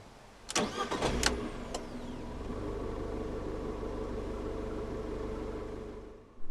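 A 2016 Abarth 595 Turismo with a five-speed manual cranks briefly and fires up, its small engine revving once before settling into a steady, close idle.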